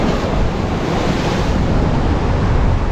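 Ocean swell surging and crashing against coastal rocks at a bass fishing spot, a loud, continuous broadband roar of surf with steady wash and wind noise, no voices.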